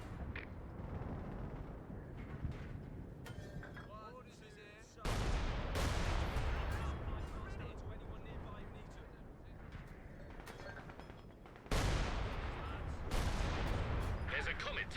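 Artillery fire in the video game Company of Heroes 2 during a four-versus-four battle: heavy, booming impacts land in two big waves, each followed by a long rumbling roar with scattered crackle and distant shots. Voices talk throughout.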